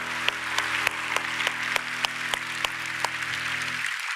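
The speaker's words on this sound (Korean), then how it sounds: "다시 한번 박수해 주시겠습니다." Church congregation clapping for missionaries during a Korean church Sunday service, a steady run of sharp, separate claps with a soft hum underneath, fading out at the end.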